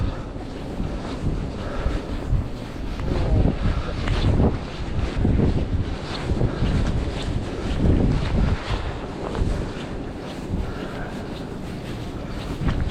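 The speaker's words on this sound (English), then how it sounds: "I need something just to break the wind." Strong, steady wind buffeting the microphone on a pier at Navy Pier on a cold December day, a continuous low roar with gusty surges and the wash of lake water, no voices.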